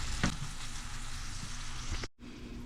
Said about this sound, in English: our onions are simmering away nicely